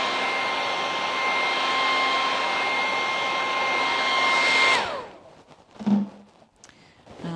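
A hair dryer blows steadily on wet paint over wood, a loud continuous whir with a faint whine that cuts off sharply near the end, leaving quiet handling noises.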